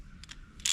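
A ratchet clicks a few quick strokes tightening bolts during final assembly of a Chevy 350 small block engine, faint and close, ending in a brief louder metallic burst.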